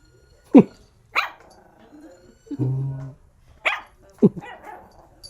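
A dog barks several times in short, sharp yelps and a longer whining bark, close by, with quiet pauses between.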